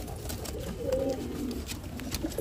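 Pigeons coo softly and nearby, one low rounded call rolling through the middle with quieter murmurs around it in a calm indoor loft setting.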